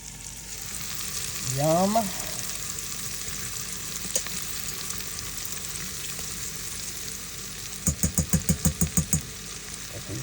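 Steak and mushrooms frying in butter give a steady, close sizzle throughout, with a short spoken word early on and a quick run of rhythmic knocks near the end.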